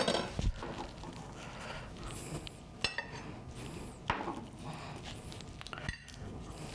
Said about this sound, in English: Slice it in little pieces.